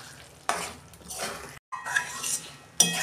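Lote fish cooking in a pan is stirred, with soft sizzling broken by a few sharp scraping and clinking strokes of a utensil against the pan, close and fairly quiet.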